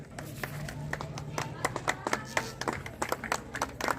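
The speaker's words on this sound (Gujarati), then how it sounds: "વિજયભાઈને પણ આપણે ખાસ તાળીઓના ગડગડાટથી પણ વધાવી લઈએ" An audience at an innovation festival shield award ceremony in Khambhaliya breaks into uneven applause, with sharp individual hand claps growing denser and louder and a voice faintly audible underneath.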